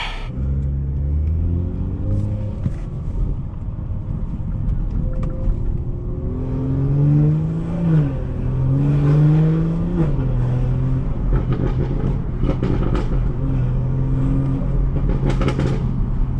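A sports car switched into sport mode revs and accelerates, its engine rising and falling in pitch through several pulls, loud and close from inside the cabin, with a steady rumble underneath.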